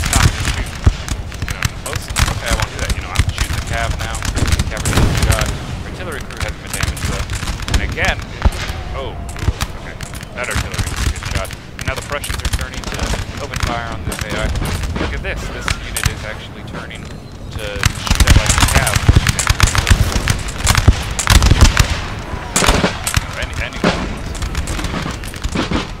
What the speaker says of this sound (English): I'm shooting the cav now.